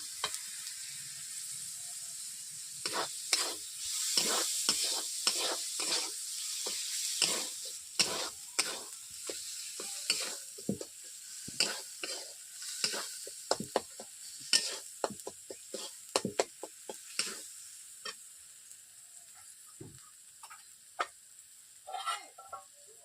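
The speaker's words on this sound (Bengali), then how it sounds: "এরপর দিয়ে দিচ্ছি টমেটো কুচি।" Chopped tomato frying in a wok on lowered heat, a soft sizzle broken by many sharp scraping and tapping stirs of a spatula against the metal, irregular and close, with no talking.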